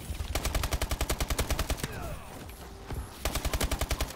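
Rapid automatic gunfire from a first-person shooter game in a free-for-all match, two long bursts of evenly spaced shots separated by a brief gap with scattered game effects.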